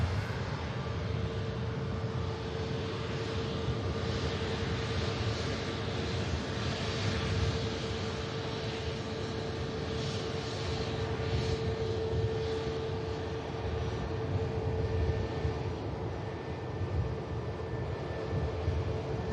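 A Jet2 Boeing 737 airliner lining up for departure to Tenerife at Manchester Airport, its engines a steady, continuous roar at moderate distance, holding an even level with a faint whine throughout and no voices.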